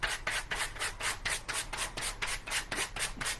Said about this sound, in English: It really doesn't take very long with a sanding block.